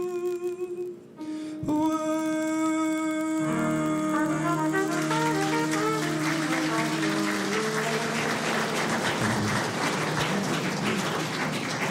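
An audience bursts into applause after a morning singing performance at a swearing-in ceremony for cabinet ministers, the sustained clapping swelling in and overtaking the final held notes of the song before continuing loud and steady.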